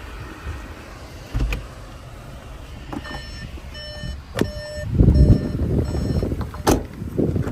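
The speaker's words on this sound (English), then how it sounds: "If we put the vehicle into reverse, we can see that it comes with front and rear parking sensors." Rear parking sensor beeps on a Volkswagen Polo in reverse chirp in short, evenly spaced pulses over a low cabin hum, with a few soft clicks and thumps around them.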